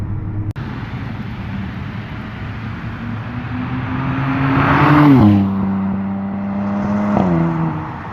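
A 2020 Toyota Supra sweeps past in a flyby, its engine tone rising and swelling loud as it nears, then dropping in pitch as it passes, with a brief rev afterward.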